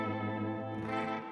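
An electric guitar chord rings through the reverb of a Fender Deluxe Reverb Tone Master amp, a sustained, shimmering tone that swells slightly and then fades over about a second.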